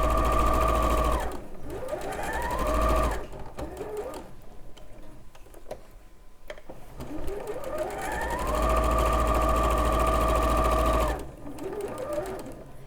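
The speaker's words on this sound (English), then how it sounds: "You don't have to sew at breakneck speed, it's fine." Domestic sewing machine stitching quilting cotton at normal stitch length, a loud close steady whir that runs in long bursts, pauses, then speeds up again, with brief stops for pivoting at corners.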